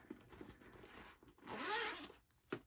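Zipper pull on a sewn bag drawn along its zipper, a soft close rasping slide of about half a second, with faint handling rustles before and a short tug after, quiet and alone.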